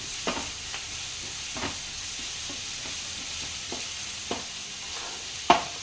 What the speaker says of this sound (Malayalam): അല്പം കറിവേപ്പില ഒരാറ് വറ്റൽമുളക് ഇത് നന്നായിട്ട് നമുക്കൊന്ന് ഇളക്കി യോജിപ്പിച്ച് നല്ല ബ്രൗൺ കളറാക്കി എടുക്കണം